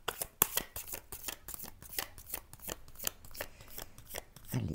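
A deck of tarot cards is shuffled and drawn in quick, crisp riffling flicks, close and steady, card snaps repeating rapidly over several seconds with no voice.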